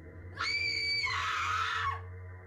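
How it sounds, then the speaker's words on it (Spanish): A single high-pitched scream of terror, loud and sustained for about a second and a half, rising then breaking into a harsher wail before cutting off. "Un grito de horror absoluto hace vibrar toda la casa"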